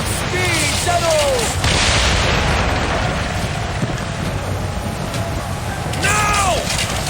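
Ship cannons fire during naval combat in the Assassin's Creed game, booming blasts under steady wind and sea roar, with shouted voices rising over the din near the start and again at the end.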